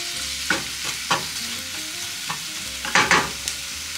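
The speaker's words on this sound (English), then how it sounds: "I'm going to saute some onions." Onions sauté in a pan with a continuous soft sizzle, broken by several sharp scraping stirs of a utensil against the pan, close and clear with no talking.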